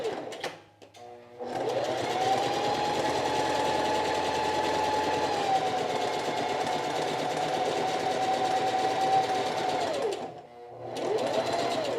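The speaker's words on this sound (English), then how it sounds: "So you just want to sew just in the edge." A sewing machine runs steadily along the edge of a quilted jacket, a loud continuous whirring hum for about eight seconds, starting and stopping with brief pauses at each end.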